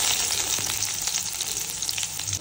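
A large chopped onion goes into hot oil with mustard seeds for a Tamil mutton curry, giving a bright, constant sizzle with soft crackles and light stirring, no voices.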